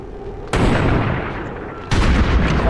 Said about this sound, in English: Oh, why are you both shooting?